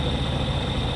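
Jeep engine idling just after starting up on old fuel: a loud, close, steady low rumble with a constant droning hum, running alone without any talk.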